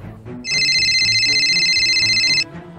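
A telephone rings loudly in a steady electronic ringtone pattern for about two seconds, layered over background speech and room noise in a dramatic film scene.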